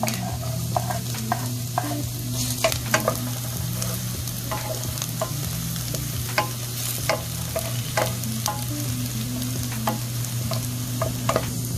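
Garlic and white onion sauté in a pan for creamy chicken adobo, a steady close sizzle broken by frequent light scrapes and clinks of stirring.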